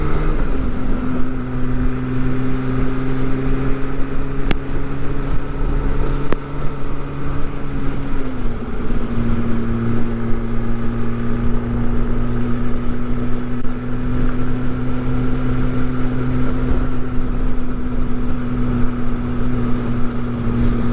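MV Agusta 1090 Corsa motorcycle accelerating on steady throttle, its engine note climbing smoothly in pitch, dropping briefly at a gear change, then holding a strong, loud, continuous drone throughout.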